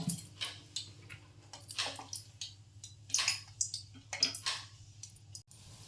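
Salted seedai dough balls are dropped one by one into hot oil in a home kitchen, bubbling up in irregular bursts of close, crackling sizzle and clicking pops.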